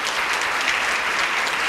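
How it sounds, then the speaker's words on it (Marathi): A hall full of people applauds at a career fair event, producing a continuous, even roar of clapping that stays at a constant level throughout the short stretch, with no voices on top. "तर जोरदार टाळ्या ताईसाठी"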